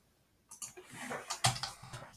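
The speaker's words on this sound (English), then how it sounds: "And let's type the word in" Keys tapped on a computer keyboard while a word is typed in, a quick run of soft, close clicks following a short silence.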